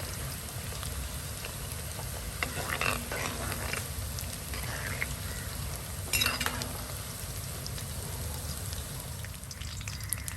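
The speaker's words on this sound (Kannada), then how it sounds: "ಚೆನ್ನಾಗಿ ಫ್ರೈ ಆಗಬೇಕಿದು" Soya chunks fry steadily in hot oil, a dense continuous sizzle with crackling bursts and a few stirring scrapes, close and fairly loud, with no talk.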